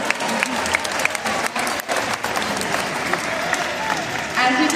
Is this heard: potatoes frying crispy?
no